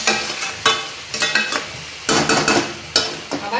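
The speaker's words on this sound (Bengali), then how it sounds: "আবার নেড়ে চেড়ে দিয়ে আরও কিছুক্ষণ কষিয়ে নেব" Spices with chili powder are stirred and sautéed in a pan. Repeated loud, close scraping strokes come in an uneven rhythm over a constant frying sizzle.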